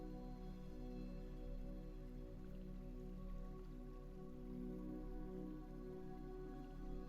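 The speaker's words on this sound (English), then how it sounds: "Then the rain begins again." Steady rain falls over an open field as an even, continuous hiss with no breaks, soft and far off.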